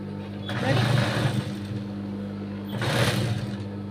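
A sewing machine runs steadily, stitching a full round along the back of a fabric piece, its motor hum continuous beneath a voice talking over it.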